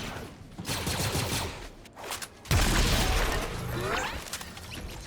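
Gunfire from a weapon in Fortnite, a dense rattle of rapid shots and crashing impacts that pauses briefly and then returns louder and sustained.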